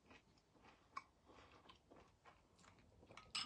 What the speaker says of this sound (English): Can you hear that crunching?